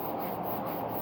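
Hand sanding on a chopper-style motorcycle bodywork panel, a steady dry rubbing rasp with even back-and-forth strokes, close and continuous with no talking.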